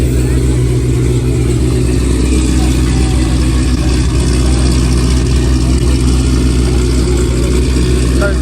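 Very loud Dodge Hellcat idling nearby, a deep, rumbling engine drone that stays steady and powerful throughout, with people talking over it.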